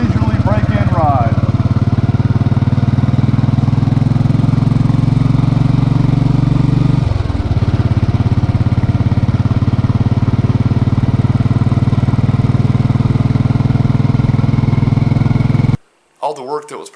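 Motorcycle with a newly replaced engine on a leisurely break-in ride: a loud, steady low engine drone that holds constant with one brief dip midway as it shifts, continuing for over fifteen seconds before cutting off abruptly.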